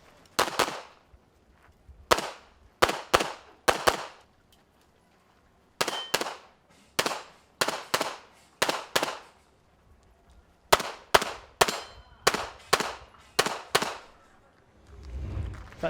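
Gunshots at a stage of the Extreme 2017 shooting competition fire in quick clusters of sharp, loud cracks with short pauses between groups, followed by a low thud at the end.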